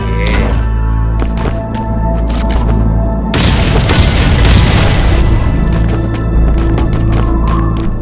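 A bomb explodes in the survival video game Last Island of Survival, one loud, deep boom bursting out midway over steady game background noise and crackle.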